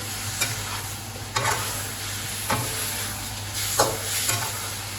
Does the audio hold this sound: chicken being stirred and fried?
yes